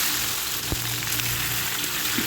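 Tomatoes and jujubes hitting hot oil in a pan already holding dried red chillies and a bay leaf, giving a steady, close, moderate sizzle with a couple of faint clinks and no talk.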